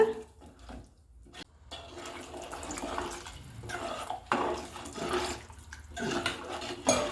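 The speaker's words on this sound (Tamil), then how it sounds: "இன்னும் கூட தண்ணி ஊற்றலாம் போல்." Water splashes and gushes continuously, sloshing into a cooking pot of tamarind curry (puli kulambu) at close range with uneven surges.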